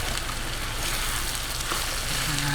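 Carrots, green peas and raisins fry and get stirred in a hot pan, giving a steady, dense sizzle with no pauses and no talking.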